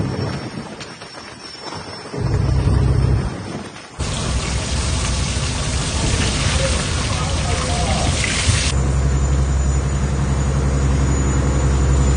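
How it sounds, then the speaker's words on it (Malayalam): Heavy rain pours down on a deep-sea sardine fishing boat, a loud, constant hiss of drops drumming on deck and water, with low rumbling underneath that swells and shifts. "പെരുമഴയാണ്."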